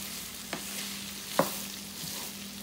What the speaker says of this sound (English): it has a nice little sizzling going on